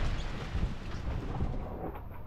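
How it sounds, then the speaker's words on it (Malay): Heavy rain with a storm around a car on a road trip to Kuala Terengganu: a dense, steady low roar of downpour with deep rumbling swells, loud and continuous throughout. "Ngam-ngam hujan lebat dengan ribut."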